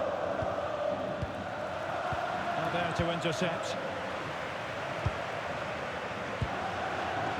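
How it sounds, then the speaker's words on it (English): A football stadium crowd at Valencia versus Villarreal keeps up a steady, dense roar for the whole stretch, with a commentator talking over it. "Well, just listen to this crowd."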